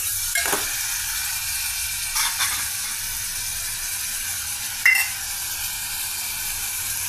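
Tomato pieces with a half spoon of salt sizzle steadily in a pan on a stove, a continuous frying hiss broken by a few brief stirring clinks.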